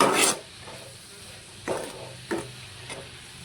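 Dried fish curry with onion stalks is stirred as it fries in oil. A few distinct scraping strokes come at irregular intervals over a faint sizzle, close by.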